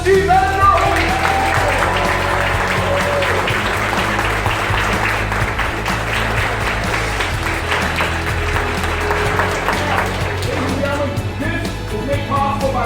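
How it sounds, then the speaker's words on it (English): A large audience gives a sustained, loud round of applause for five-time heavyweight boxing champion Evander at a charity event, dense clapping with some cheering that holds steady and eases slightly toward the end. "one more quick round of applause"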